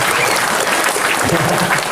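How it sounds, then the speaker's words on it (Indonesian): Loud, dense applause from a crowd, steady clapping filling the whole moment. "Tepuk tangan untuk Ibu ini"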